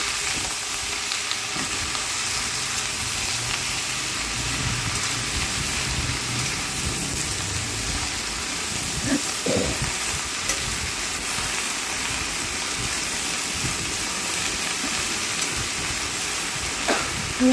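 Bottle gourd fries in a pan with spices for a Bengali vegetarian dish, a continuous close sizzle with occasional scraping of the spatula as it is stirred.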